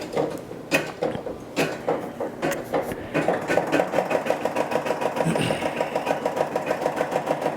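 A home embroidery machine stitches out a patch with a fast, regular mechanical chatter of needle strokes that grows steadier after a few seconds. Scattered clicks and taps from setting it going come first.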